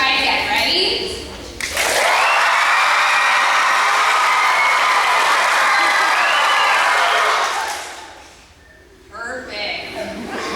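A school crowd bursts into loud cheering and applause on cue, a dense roar sustained for about six seconds before fading out, with a voice talking just before and after.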